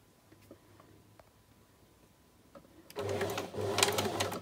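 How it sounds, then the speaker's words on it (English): A sewing machine stitches a fabric seam after the presser foot is lowered. The steady mechanical whir starts after a quiet pause, then runs loud and close with a rapid, even needle rhythm. "then I can lower the presser foot and start to sew."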